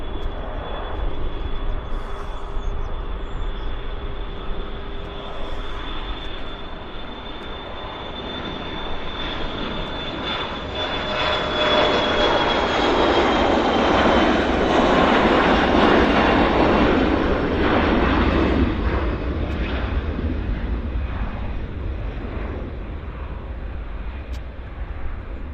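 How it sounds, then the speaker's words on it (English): Air France Airbus A350 jet departing from Vancouver airport, a continuous loud engine roar that swells to a peak midway and holds, with a steady whine running through it, heard from a distance and alone. "Air France is pushing back. We'll get an A350 departure out of this."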